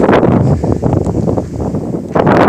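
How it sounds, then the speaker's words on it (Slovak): Strong wind gusting outdoors, a loud roaring buffet against the microphone that swells and dips briefly before surging again. "fúka tu strašný vietor"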